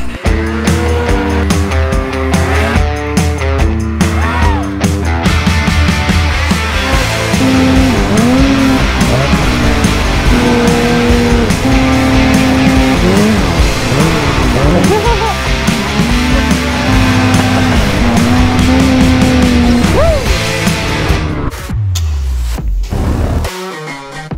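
A Ski-Doo snowmobile engine drives loud and close through a forest, its revs surging and dropping steadily throughout before cutting off abruptly near the end.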